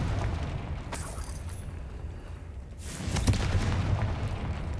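A Confringo blasting spell detonates in Hogwarts Legacy, a muffled boom with a rumbling tail over quiet ambient noise, followed by a second, louder burst.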